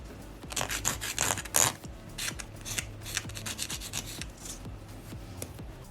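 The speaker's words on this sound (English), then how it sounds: "you can simply take your nail file and file around the edges just to make sure that it fits your cuticle perfectly" A nail file rasps back and forth along the edges of a polygel nail shaped with a dual form, giving a steady run of close, quick scraping strokes with no talk.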